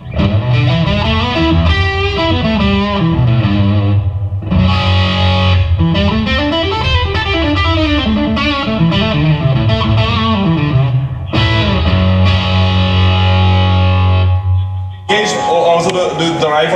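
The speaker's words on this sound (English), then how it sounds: "This one next to it is my new favorite fuzz, the BOG. It's from Brazil, a company called Deep Trip Pedals." Electric guitar played through a BOG silicon fuzz pedal from Deep Trip Pedals of Brazil, loud distorted sustained chords and bending lead lines with brief gaps between phrases, heard alone without talk.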